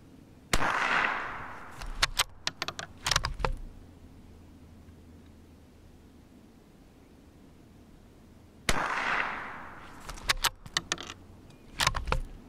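A Ruger American Rimfire rifle firing SK rimfire ammunition outdoors, two clusters of sharp, close cracks with a few rapid reports each, separated by a long stretch of quiet background noise.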